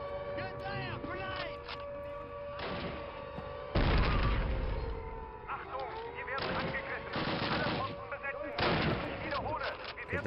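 Repeated gunfire in Call of Duty (2003), loud bursts of shots and booming reports in irregular clusters, heard alongside a speaking voice.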